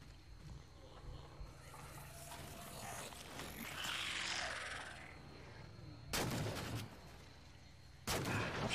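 Assault rifle fire in Halo 4, heard as short loud broadband bursts of shots standing out from a quieter game backdrop, two distinct volleys near the end.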